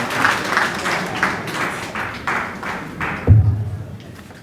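An audience at the Maison de la Presse claps to welcome the Minister of Communication. The clapping comes in steady, rhythmic bursts of moderate loudness, then fades, and a dull thump follows near the end.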